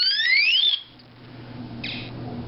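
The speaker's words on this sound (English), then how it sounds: "Second position sounds an alarm." A LittleWolf device in its second mode sounds an alarm: a loud, close electronic warble that rises like a charging whine, then cuts out, followed by a shorter burst of the tone over low hum.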